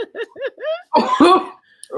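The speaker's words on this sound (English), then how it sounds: "That was like one of them smoker coughs or something." A woman gives a short run of raspy, hacking coughs like a smoker's cough, a few quick bursts followed by a rougher, louder spluttering fit, with laughter mixed in.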